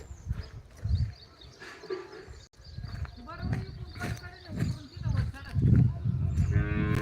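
Several cows in a herd of twenty to twenty-five moo at intervals, near and fairly loud, mixed with voices talking and some shuffling farmyard noise.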